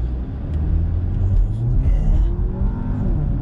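A Porsche sports car accelerating at full throttle on the Sepang track, a loud close engine roar with a rising pitch and heavy low rumble, then easing off near the end.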